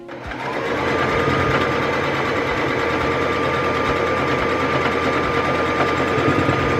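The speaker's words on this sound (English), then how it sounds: "then I'm going to start stitching and I'm going to back stitch on either side." A sewing machine runs steadily at speed, stitching fabric for a reversible bucket hat headband, a close, loud, continuous whirring hum with a rapid mechanical needle rhythm after a brief start-up.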